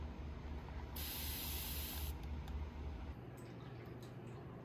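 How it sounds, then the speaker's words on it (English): An ultra-fine continuous mister spray bottle of 10 oz gives one steady hissing burst of mist lasting about a second, close and clear, over a quiet background hiss. "Hold down the trigger to get a couple seconds of continuous spray."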